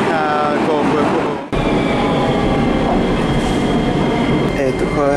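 A metro train departing a station in Lyulin hums and rattles loudly close by, cutting out briefly before a steady electric whine and rolling clatter resume as it pulls away.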